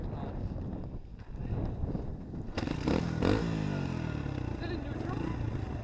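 A Honda XR100 dirt bike engine idles roughly and unevenly as if close to stalling, with wind buffeting the microphone and people talking over it.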